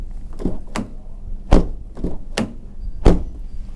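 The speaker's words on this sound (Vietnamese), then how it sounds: "Và cùng đóng cửa cho bạn nghe nè." The doors of a 2023 Ford Territory SUV are shut several times, giving a series of solid, heavy thuds close by. Two of the slams land especially hard, and softer clunks and latch clicks fall between them, with no talking.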